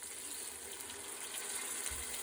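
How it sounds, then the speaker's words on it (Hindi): Water pouring steadily into a karahi of fried spiced beef, a continuous close gush with no talk over it. "और अभी हम इसमें पानी ऐड कर देंगे।"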